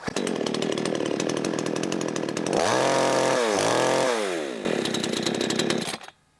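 A new Demon CS58 chainsaw engine with a carburettor running rich at full revs, loud buzzing two-stroke drone that surges and dips through several throttle blips before cutting off abruptly.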